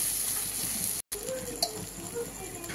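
Pumpkin and potato tipped into a pan of sizzling chilli and turmeric spices for a prawn curry: steady close frying sizzle with a brief gap and a clack of pieces landing, with a voice speaking over it.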